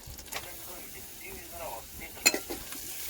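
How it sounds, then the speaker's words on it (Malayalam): Chopped onions and green chilies sizzle as they go into hot oil in a frying pan in a Kerala village kitchen, a close hiss with stirring scrapes and a few sharp metallic taps while someone speaks over it. "ഞാൻ ചോപ്പ് ചെയ്ത് വെച്ചിരിക്കുന്ന സവാളയും പച്ചമുളകും അതിടാൻ പോവേണേ"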